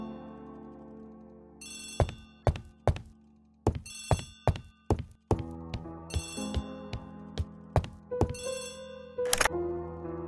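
An old-fashioned telephone bell rings in repeated bright bursts in The ABC Murders detective game, set among soft thunks and sustained musical tones.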